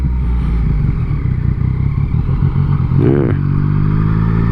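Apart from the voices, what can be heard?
Yamaha MT-09 motorcycle engine riding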